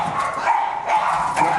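Puppy yipping and barking inside a whelping shed on an Irish dog-breeding farm, a few short high barks close by within a continuous noisy indoor background.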